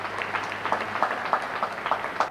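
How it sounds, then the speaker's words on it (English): An audience at a Ugandan government event for investors, addressed by the president, claps in a fairly loud, loose rhythmic pattern of hand claps that lasts a couple of seconds. "please let's clap for him for that"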